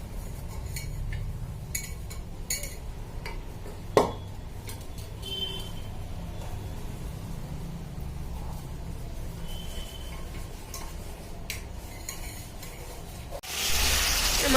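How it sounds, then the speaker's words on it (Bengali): Chicken meat being sautéed in a pan gives a steady, quiet sizzle for home-cooked curry, with occasional stirring scrapes and a clink of utensils, close by and alone. "আমার ঠাম্পি এখানে মাংস রান্না করছে, মাংস কষা চলছে।"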